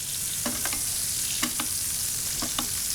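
Butter with chopped thyme sizzles gently in a steak pan, a soft steady hiss broken by a few quick scraping stirs and taps.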